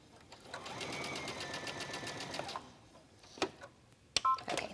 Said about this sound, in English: Now I'm only going to stitch this side down just a little bit.